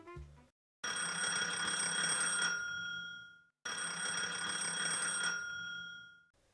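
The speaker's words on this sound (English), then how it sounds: "Is it a phone?" A telephone bell rings in two long, loud bursts with a short silent gap between them, and no voices.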